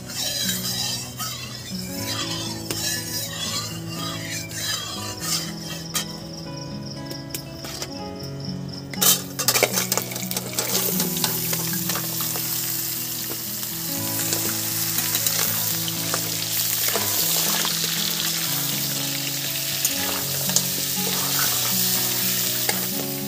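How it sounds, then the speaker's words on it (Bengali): Crabs hit hot oil in a wok with a loud, steady crackling sizzle that swells after the first several seconds and keeps frying, with a faint scrape of stirring and soft background music underneath. "এবার আমি কাঁকড়াগুলো দিয়ে দেব।"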